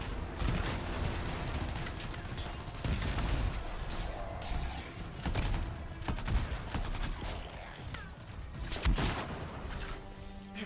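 Sustained bursts of gunfire and explosive crashes from the sci-fi shooter Anthem, dense rapid volleys running throughout with a few louder blasts and impacts, busy and continuous.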